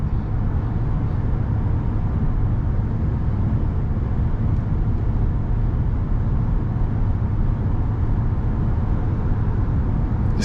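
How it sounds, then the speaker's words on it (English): A heavy pickup truck of over 5,000 pounds drives across a bridge, heard from inside the cab as a steady, loud, low road rumble and roar with no distinct jolts standing out. "You can hear how well this truck goes over the bumps."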